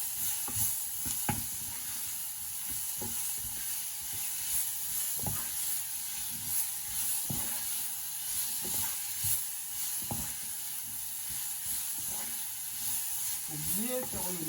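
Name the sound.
spices frying in a saucepan for tuna quiche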